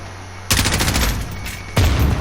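Close automatic M4A1 rifle fire in the Modern Warfare video game, two loud sustained bursts with a brief lull between them and no talking.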